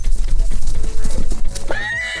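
A horse neighs loudly and close over steady galloping hoofbeats, the whinny rising sharply near the end of the short burst with no voices.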